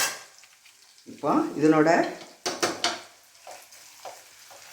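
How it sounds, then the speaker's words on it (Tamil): Garlic, green chili, coconut and peanuts are stirred and roasted in a pan for bitter gourd poriyal, with soft sizzling and utensil scrapes heard in short bursts around brief speech. "பூண்டு, பச்சை மிளகாய், தேங்காய், வேர்க்கடலை இது கொஞ்சம் நல்லா சிம்மில் வச்சு இந்த மாதிரி வறுத்துக்கலாம்."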